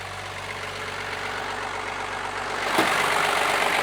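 A twin-turbocharged 12-valve Cummins diesel idles steadily under the hood of a first-generation Dodge Ram work pickup, a constant low rumble that grows slightly louder near the end.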